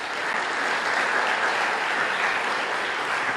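Steady applause fills a church congregation celebrating a girl's fifteenth birthday, a dense, even wash of clapping that holds at the same loudness throughout with no voices over it.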